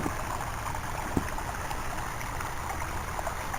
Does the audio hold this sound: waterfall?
yes